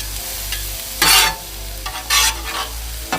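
Peppers, corn and other vegetables frying on a Blackstone griddle, with a steady low sizzle broken by two bright scraping bursts of a spatula stirring the vegetables close by.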